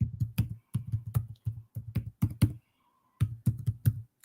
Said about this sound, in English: Hold on, I'm typing it in.